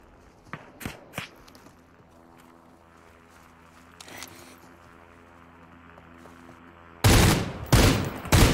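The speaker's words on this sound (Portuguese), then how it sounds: "Tá tomando tiro" Gunfire in the battle royale game Super People: a few sharp shots early on, then loud, dense bursts of rapid fire near the end.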